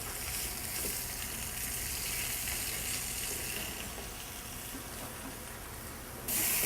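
Zucchini and summer squash searing in a hot pan to caramelize the outside, a continuous broad hissing sizzle at moderate level, steady throughout with a brief jump in loudness near the end.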